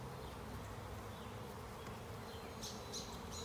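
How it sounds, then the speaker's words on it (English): Honeybees from a freshly opened package buzz during hive installation, a faint, continuous droning hum with a few brief, sharper wingbeat swells near the end. "here's some bees already starting to get out"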